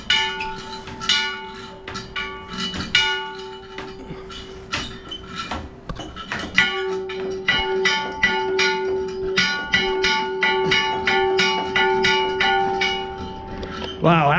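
Bells rung in the Mozyr video game, a dense run of bright, repeated metallic strikes with sustained ringing tones, loud and continuous throughout, some strokes clustered in quick bursts with brief gaps.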